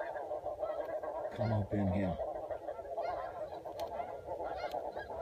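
Geese honk as they fly in toward a hunting spread, a short burst of loud calls near the middle over steady outdoor background noise, with a voice speaking briefly.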